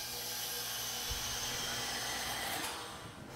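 A vacuum pump drawing down a container to pack dried food for long-term storage, a steady faint whirring hum that holds evenly and then eases off toward the end.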